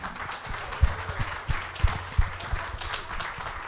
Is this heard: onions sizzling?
no